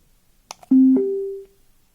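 Lenovo K3 Pro Bluetooth speaker switching on: two faint clicks, then a loud steady tone that steps up to a higher pitch and fades out after about three-quarters of a second, close and clean over silence.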